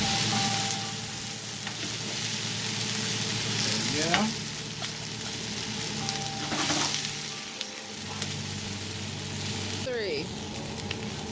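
Onions and peppers for chicken fajitas fry steadily in a pan, a continuous close broadband sizzle with occasional stirring scrapes, while a person speaks briefly over it.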